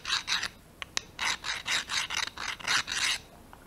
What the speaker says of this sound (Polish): Więc co, pilnik płaski do piły.